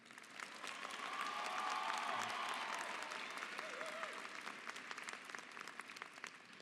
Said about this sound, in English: please give our senior class sponsor, Ms. Leslie Cordova, a round of applause